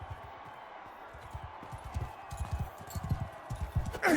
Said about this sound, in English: Looks like Blue went for the horse and ran into the massive pole